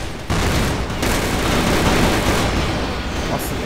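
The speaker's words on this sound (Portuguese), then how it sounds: "explosão pra tudo que é lado" A dense, continuous roar of grenade blasts and rapid gunfire in the online shooter CrossFire, loud and unbroken with layered explosions rumbling throughout.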